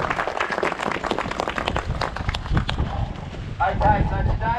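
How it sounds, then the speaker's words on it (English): Crowd clapping at a Forster ocean swim race gathering, mixed with wind buffeting and nearby talk, uneven and busy rather than a clean, steady ovation. "Big round of applause, guys."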